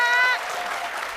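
Audience applause for contestant Yana on a comedy game show, a dense wash of clapping that swells briefly at the start with a tonal voice or sound, then carries on steadily at moderate level.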